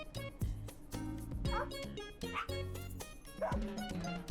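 Cartoonish dogs bark in short yips in the video game Go Home Annie, about four bursts spaced roughly a second apart over playful game sounds, with some talking mixed in.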